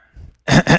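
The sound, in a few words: cough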